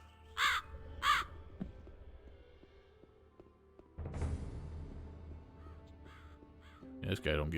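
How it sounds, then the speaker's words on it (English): Crows in the video game Gothic 2 give two loud, close caws in quick succession near the start, then another harsh burst at the end over a low game ambience and rumbling background. "these birds are so loud"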